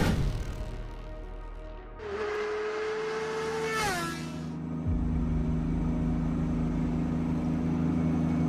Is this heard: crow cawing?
no